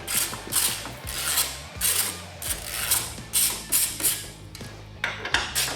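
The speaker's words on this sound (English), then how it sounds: "get yourself a 1/2-inch socket on a ratchet. Take the bolts out of the ECM caddy." A hand ratchet fitted with a 1/2-inch socket backs bolts out of the ECM caddy on a 2014–2020 Harley-Davidson Electra Glide Police FLHTP, giving a close, steady run of rapid clicking bursts with brief pauses between strokes.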